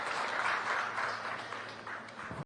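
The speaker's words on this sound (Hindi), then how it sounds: "तालियों की गड़गड़ाहट" Audience applause at a Times Now summit welcoming Delhi Chief Minister Rekha Gupta, a steady moderate clapping that fades slightly and then cuts off abruptly at the end.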